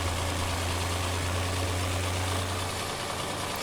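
A tractor engine in Farming Simulator 2017 drones steadily at idle-like low rumble, constant and unbroken for the full few seconds with a broad noisy hiss on top and no voices.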